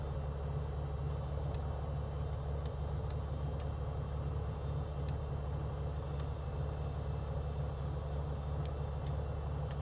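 A G36 light aircraft engine idles in Microsoft Flight Simulator 2020 as a continuous, even low drone with faint, scattered clicks over it.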